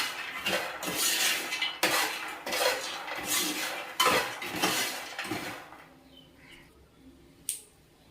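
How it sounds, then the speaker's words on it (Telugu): A spoon scraping in a pan as masala is mixed into makhana fry, with rhythmic, gritty strokes repeating for several seconds, then quiet with a single clink near the end. "మసాలాను ఇందులో వేసుకోవాలి. వేసుకొని బాగా కలుపుకోవాలి."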